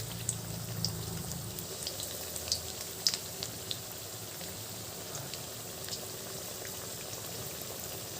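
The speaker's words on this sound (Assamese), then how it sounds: "এইপিনে চাহ উতলি আছে" Steady bubbling and light sizzling of tea boiling in a pot, with faint crackles and pops over a constant hiss, no voices.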